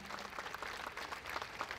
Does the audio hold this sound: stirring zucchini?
no